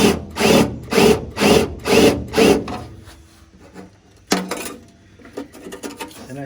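A drill grinds through aluminum rivets on a VW Beetle front apron in five short, rhythmic bursts, then goes quiet with small clicks before one final brief burst of drilling.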